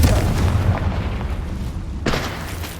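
A Confringo blasting curse explodes in the Hogwarts Legacy video game with a loud, deep boom. A second sharp blast follows about two seconds later.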